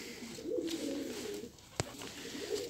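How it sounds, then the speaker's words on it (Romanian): Pigeons cooing nearby in soft, low, repeated coos, moderately quiet, with a brief sharp click partway through and no talk. "le-am dat mâncare porumbeilor"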